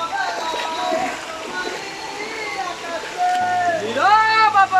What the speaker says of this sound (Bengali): ঝর্ণার শব্দ একদম আমার কানে পৌঁছচ্ছে